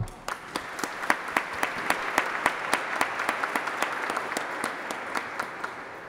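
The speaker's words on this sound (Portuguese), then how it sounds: "A todos eu peço uma salva de palmas." Audience applause at a Brazilian parliamentary front event on humanizing public services, a steady sequence of distinct claps at a regular rhythm, moderately distant and even, with no voices over it.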